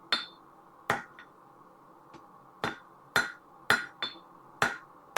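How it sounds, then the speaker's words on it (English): A hammer strikes a forged metal piece on an anvil to knock it back into place, with about nine sharp ringing blows at an uneven pace and short pauses between, close and clear. "I'm going to hammer this back in a little bit and see what we can do there."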